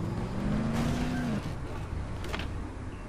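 A car engine in the video game Dead Island droning steadily, with a brief whining tone that rises and then cuts off, against a constant road rumble.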